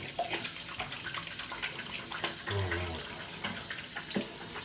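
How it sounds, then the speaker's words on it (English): A bathroom tap runs steadily while someone rinses slick shaving lather from their hands, with a close, soft hiss of water and small splashes and gurgles at the sink. "I gotta have to rinse my hands"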